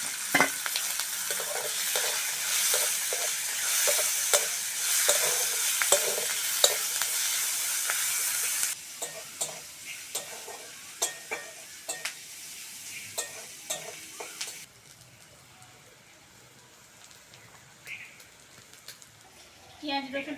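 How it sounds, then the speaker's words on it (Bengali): Chopped onion frying with garlic in a pan, first a bright, loud sizzle, then quieter crackling with scattered clicks of stirring that fades toward the end. "রসুনটা ভালো করে ভেজে নিয়েছি, এবার দিয়ে দেবো কুচনো পেঁয়াজ।"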